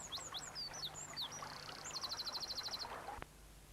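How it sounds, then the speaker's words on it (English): A wren sings on a spring river bank, a rapid run of high, bright trills and chirps in repeated phrases over soft background hiss, ending with a short thump. "New leaves uncurl, and birds like the wren are starting to sing."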